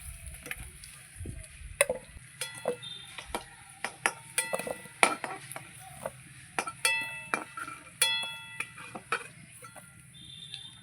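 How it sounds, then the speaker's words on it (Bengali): Fried potatoes for a goat-fat chicken curry being lifted out of a pan of hot oil, with a run of sharp metal clinks and scrapes from the utensil over a quiet sizzle, close and fairly loud. "লাল করে ভেজে নিয়েছি। এবার তুলে নিচ্ছি।"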